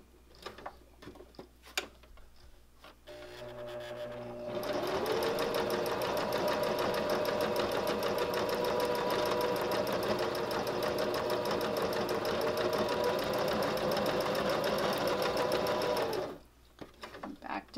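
A sewing machine runs steadily for about twelve seconds, stitching a quilted fabric heart, with a dense mechanical whir, preceded and followed by quieter handling sounds.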